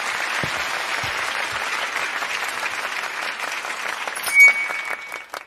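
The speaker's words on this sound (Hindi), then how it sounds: "तालियां" An audience at a poetry recitation breaks into applause, a continuous, moderately loud spread of many hands clapping that holds steady and fades slightly near the end, with a brief louder bump partway through.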